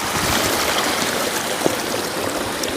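A clear mountain stream near a Subang waterfall rushes and gurgles without pause, a close, full wash of flowing water with a faint splashy tick partway through and no talking.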